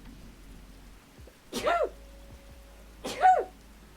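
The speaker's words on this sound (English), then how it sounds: "Sneeze." Two short, sharp sneezes, one about a second and a half after the other, fairly faint against a quiet background with no speech.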